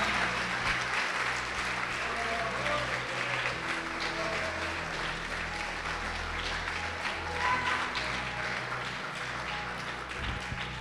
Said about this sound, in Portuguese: Pode aplaudir o Senhor e glorificá-lo.